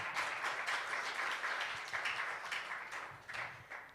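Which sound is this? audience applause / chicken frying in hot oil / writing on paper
audience applause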